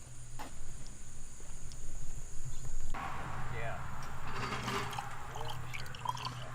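After a quiet stretch, water pours steadily into a car reservoir, a soft gurgling stream that continues to the end.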